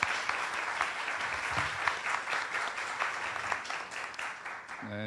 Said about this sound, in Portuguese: Peço a salva de palmas a todos.